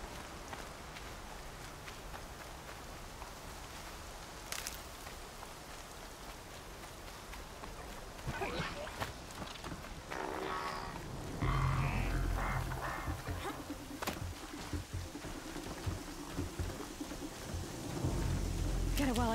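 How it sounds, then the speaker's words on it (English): Steady rain and rumbling thunder in Horizon Zero Dawn, a continuous wash of downpour with deeper rolls building in the second half, heard over game sound without talk. "Oh, rain again."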